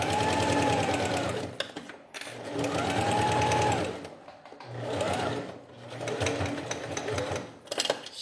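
A sewing machine fitted with a teflon foot stitches clear crystal plastic for a small pouch, running in loud close bursts separated by short pauses.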